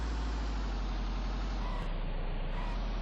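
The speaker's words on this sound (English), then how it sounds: "How is that pickup truck?" A pickup truck drives in the survival game Vein, a steady low engine drone and road rumble that stays constant and close throughout with no talking.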